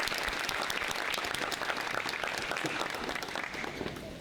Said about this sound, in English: Please give Lacey a big round of applause.